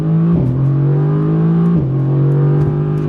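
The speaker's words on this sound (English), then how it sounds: "Listen to the instant shifts out of that dual clutch." A 2018 Mercedes-AMG engine pulls hard as the dual-clutch transmission snaps through two quick upshifts, each marked by a brief dip in the engine note before it climbs again, loud and close with no talking.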